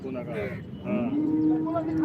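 A cow lows in a long drawn moo at a busy cattle market, close and clear over low crowd noise.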